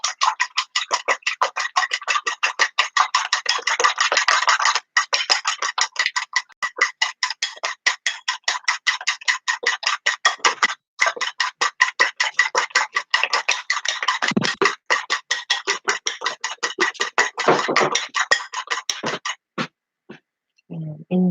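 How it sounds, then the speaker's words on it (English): Rapid whisking of an egg in a bowl while making gluten-free meatloaf, a steady fast run of sharp clicking strokes close up, with a few pauses and a soft thump near the end, no talk. "And it's super easy to whisk."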